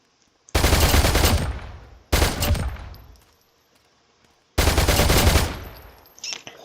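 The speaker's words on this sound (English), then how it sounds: "Let's test the P226. So we're gonna test both these pistols up." Three loud gunshot bursts from a P226 pistol in Roblox, each a sharp crack with a long ringing decay, separated by brief silences, followed by a faint softer sound at the end.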